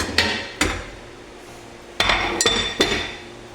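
A metal lid set onto a pot on the stove while a banana cake bakes without an oven gives a handful of sharp, close clanks and clinks, two early and three clustered later, over faint room hiss.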